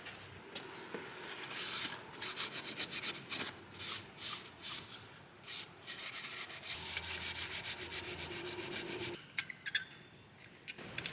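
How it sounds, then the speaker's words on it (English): Filing and deburring the top edge of a metal part on a 1961 Gottlieb Corral pinball machine: a steady run of close, rhythmic scraping and rasping strokes, continuing alone with no talk. "I'll deburr the top of it."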